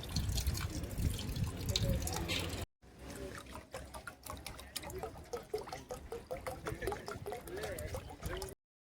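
Cold water runs from a tap into clay water pots set out for lapwing birds, a steady close splashing and trickle that cuts off briefly, then resumes as a gurgling stream while someone talks over it.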